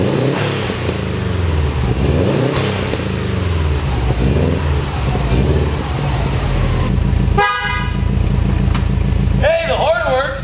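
A rebuilt Subaru WRX idles and revs loudly close by, then its horn gives a few short honks near the end, with excited talking over the engine.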